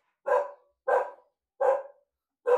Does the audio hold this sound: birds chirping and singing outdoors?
no